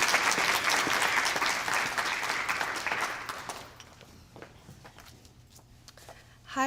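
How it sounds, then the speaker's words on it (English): Audience applause at a Fairfax County Commission for Women event for Women's History Month, a dense, steady wash of clapping that gradually thins and fades to scattered claps by the end. "give yourselves a round of applause for being here"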